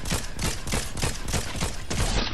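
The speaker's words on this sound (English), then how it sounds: "Oh, we're getting shot again." Rapid gunfire in the video game Fortnite, a fast, even string of sharp, loud shots landing about three times a second with no break.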